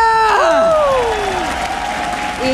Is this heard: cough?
no